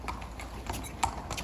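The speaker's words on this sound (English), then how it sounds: "A lovely horse, Dave." Hooves clip-clop on hard ground in a racehorse stable yard, a quick run of several sharp, close knocks from a filly being led, with faint background noise and no talk.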